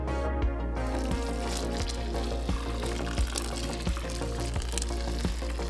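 Hot water is poured over a grain mash for homemade beer, a continuous close splashing gush with faint rhythmic clunks beneath it.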